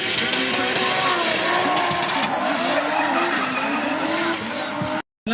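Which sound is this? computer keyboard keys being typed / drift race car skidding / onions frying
drift race car skidding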